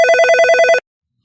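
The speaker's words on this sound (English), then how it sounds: "you could see a sound, the phone ringing sound as and when the item is ordered" Telephone ringing sound effect that plays when a menu item is ordered in a hotel app, a loud, clean electronic bell trill of rapid repeated pulses lasting under a second, then silence.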